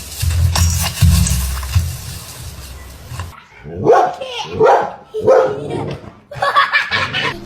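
A dog gives a run of several loud, close barks in quick succession, with people talking and laughing nearby.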